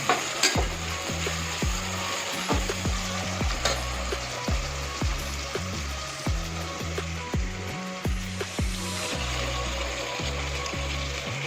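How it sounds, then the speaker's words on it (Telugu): Green chillies, onions and tomatoes fry and sizzle in a pan for a Rayalaseema country chicken curry, with repeated rhythmic scraping strokes of a stirring spoon over a constant loud hiss. "టమాటాలు కూడా వేసి వేయించుకోవాలి."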